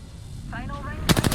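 Enemy gunfire in Apex Legends: a short burst of rapid shots near the end, after a brief tonal game sound, loud and close.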